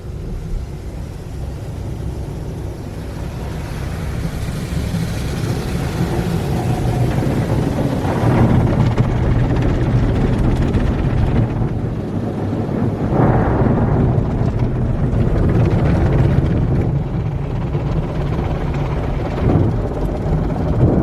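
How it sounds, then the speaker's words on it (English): Loud, steady whooshing and rumbling of soft PECO car wash tunnel brushes and spray at a Topwash Express in Plano, Texas, swelling in intensity midway, with no talking. "their brushes sound so much softer compared to a lot of other tunnels I go through"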